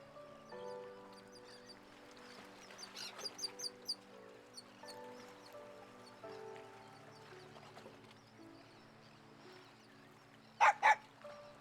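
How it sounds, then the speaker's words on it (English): Dog barking in the video game Persona 4 Arena Ultimax: a quick run of short barks early, then two louder, sharper barks near the end, set over steady game music. "A dog?"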